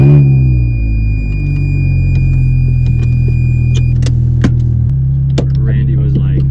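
Manual Ferrari Scuderia engine fired with the start button, then a loud, steady close-up rumble with deep low tones and a brief pitch shift near the end, while people talk over it and a tone sounds for the first few seconds.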